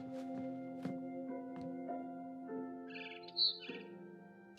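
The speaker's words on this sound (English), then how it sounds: "Then I heard chirping outside my window." A barn swallow chirping outside a window in the video game What Remains of Edith Finch, a few short bright chirps over a quiet sustained musical tone, faint and sparse.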